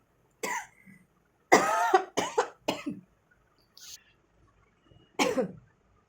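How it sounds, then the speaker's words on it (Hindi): A person coughs in a handful of harsh, separate bursts with short pauses between them, close by, with a faint throat-clearing sound mixed in. "मुझे कफ हो रहा है, खांसी हो रही है"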